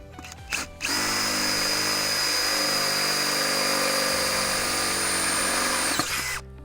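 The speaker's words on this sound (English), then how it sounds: "drill a larger hole" A power drill whines steadily for several seconds, loud and close, drilling a hole during a shed roller door installation, starting abruptly after a few short bursts and cutting off at the end.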